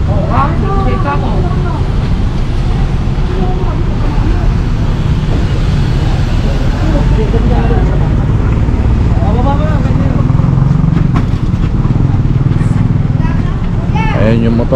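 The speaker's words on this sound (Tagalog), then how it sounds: "Ayan yung motor" A motorcycle engine runs on a busy street amid steady traffic noise, a continuous mid-level drone beneath almost constant conversation.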